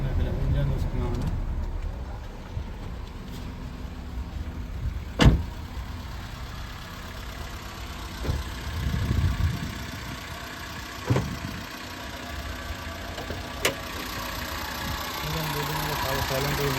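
A Maruti Suzuki Swift petrol car idles quietly and steadily, a low, even engine hum with a few sharp clicks and knocks over it.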